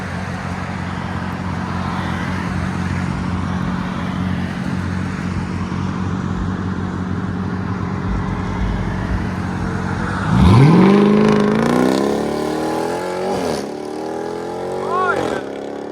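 A 2018 Dodge Durango SRT 392 with a 6.4L HEMI V8, Corsa Extreme rear exhaust and everything else deleted idles with a deep, rumbling burble, then revs hard around the middle with a rising roar and a couple of quicker blips.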